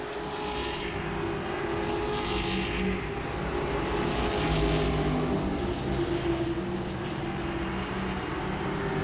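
Grand Stock race cars roaring around Langley Speedway, a continuous distant engine drone rising and falling as cars pass, heard alone without commentary.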